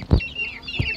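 Chickens kept as farm poultry cluck close by, two short low clucks about half a second apart, with faint higher bird chatter in the background.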